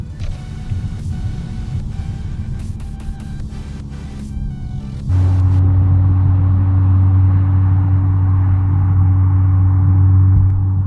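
A highly modified Volkswagen Golf R revs inside an underpass, with sharp transient bangs over a rumbling idle, then a loud, steady droning engine tone that holds close and constant.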